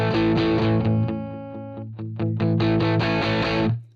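An electric guitar runs through a Line 6 HD500 amp model with light distortion, ringing out a sustained chord, then picking a few choppy strums and a final crunchy chord that cuts off abruptly.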